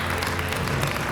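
Audience applause at the FJA Awards ceremony for the first-prize winners, a steady dense wash of clapping with crowd noise sustained throughout, moderately loud and without talk.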